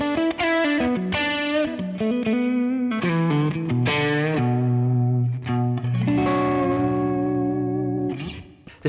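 A 2021 PRS Studio electric guitar on its middle pickup position runs through effects with drive and chorus, playing sustained chords and single notes that ring loud and close with a wide, swirling tone and no voice over it.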